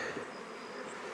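Honey bees hum steadily at an apiary hive during a honey-backfill inspection, a soft continuous buzz filling the space with no voices.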